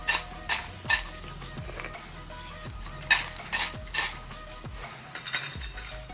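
Thin banana chips fry in hot oil with a soft sizzle, punctuated by repeated metallic clinks and scrapes of a utensil against the pan. The sound is close, and no one speaks.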